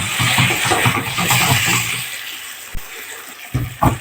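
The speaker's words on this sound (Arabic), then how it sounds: "نديها فرصتها كده اقل من دقيقه وننزل بالميه المغليه" Boiling water pours into a hot pan of cooking chicken livers and gizzards with a loud rushing sizzle that fades within a couple of seconds, followed by a few clanks of utensils.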